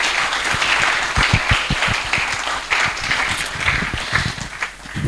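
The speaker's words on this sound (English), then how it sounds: "Please give them a hearty round of applause." An audience at a STEM event in Africa applauds its sponsors: a dense, sustained round of clapping with sharp, close hand claps standing out through the whole stretch.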